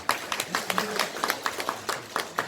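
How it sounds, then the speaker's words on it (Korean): A small gathering at a Hwaseong citizens' regional meeting gives irregular, moderately close hand claps to welcome the mayor, a sparse round of separate claps rather than a dense roar. "그럼 서철모 시장님을 큰 박수로 맞이해 주시기 바랍니다."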